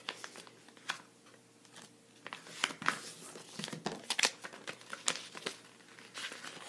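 Paper folded for a paper airplane, close soft crinkles and crisp creases in irregular bursts, fairly quiet with no voice.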